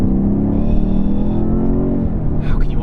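A 2021 BMW M5 Competition with a 4.4-litre twin-turbo V8 drones hard under acceleration, a loud, sustained engine roar heard from inside the car as a voice talks over it.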